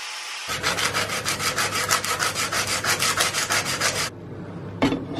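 A hand sander works back and forth on a bevel during a Red Queen sword build, producing a rapid, rhythmic rasping scrape that runs for about four seconds and then stops abruptly, with a brief knock afterward.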